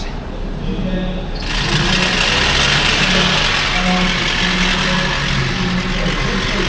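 A small 1-litre Ford EcoBoost engine idles steadily with a faint rattle, its low drone continuous and close after a brief quieter start.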